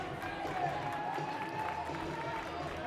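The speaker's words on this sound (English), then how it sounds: "much to the delight of the Calvin crowd, as you can probably hear to our left" Crowd noise from spectators at a Calvin versus Hope Division III college hockey game, a steady broad roar of cheering voices filling the arena, with no clear peaks.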